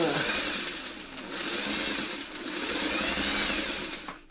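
A sewing machine stitches seams on a Thomas Star quilt, its motor whirring steadily in long runs that swell and ease, close and fairly loud, with a brief pause near the end.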